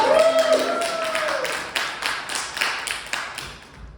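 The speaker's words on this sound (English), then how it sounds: "give them a big round of applause" Audience at a teen summer camp improv show clapping. It opens under a voice and a musical tone, then scattered, separate claps come through, fairly close, before fading out.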